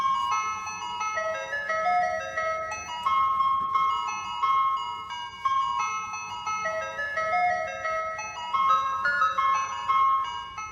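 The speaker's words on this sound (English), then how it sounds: "Maybe you heard it from a passing ice cream truck." Ice cream truck jingle playing a familiar melody on bright chiming tones, steady and moderately loud throughout, with faint road hum underneath and no talking.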